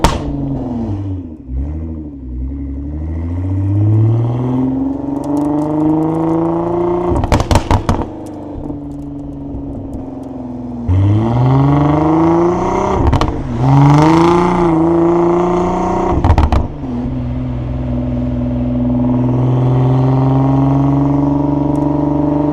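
A twin-turbo Infiniti G35 being driven, its engine revving up through the gears in rising sweeps, with a few sharp loud bursts and a steady drone between pulls.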